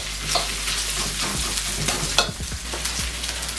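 Cold chopped rice being stirred and fried in a hot pan for fried rice. A steady close sizzle runs under the scraping and tossing of a utensil, with no talk.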